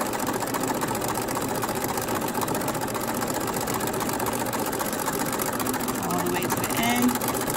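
A sewing machine stitches a zigzag seam finish with a back stitch, its steady motor hum running continuously and fairly close throughout, with a faint voice speaking over it.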